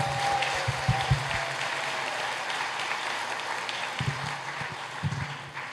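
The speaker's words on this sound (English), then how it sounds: "Let's have a round of applause for all of you who have been on the front lines of justice." An audience at a legal aid charity gala applauds in a sustained, moderately loud patter of many hands, with a few brief murmurs and thumps beneath.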